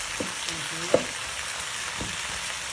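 Tomatoes fry in a pan for alamang with a steady, quiet hiss, broken by a few soft stirring knocks and a small clink, with no voices.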